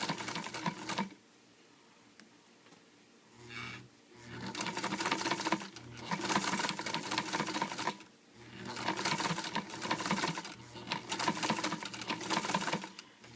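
A sewing machine fitted with a zipper foot stitches fabric in steady, loud mechanical runs, pausing twice briefly before starting up again.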